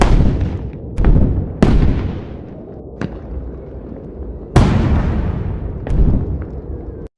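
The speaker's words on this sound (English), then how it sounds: "All those explosions." Loud explosions, several sharp booming blasts at irregular intervals with long echoing decays that fade between hits, heard alone without speech.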